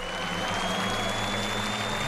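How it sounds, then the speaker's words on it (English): Rally spectators cheer and applaud in a dense, steady wash of crowd noise at a stage of the 2007 Rally Argentina, moderately loud and continuous with no talk. "The crowd are certainly enjoying the show"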